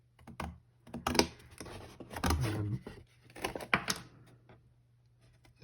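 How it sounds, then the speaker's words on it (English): Card counters being cut out with scissors or a sharp craft knife: a series of short, crisp snips and clicks in irregular bursts, close and fairly quiet, with pauses between cuts. "cut out the main bit here, and again do this nice and carefully. Decent pair of scissors or a very sharp craft knife"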